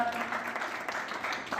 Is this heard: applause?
yes